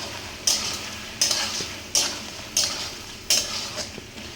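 Prawns being sautéed with a ginger, onion, garlic and chilli paste plus cumin and chilli powder, with a soft frying sizzle under five evenly spaced sharp spatula scrapes and clinks against the pan.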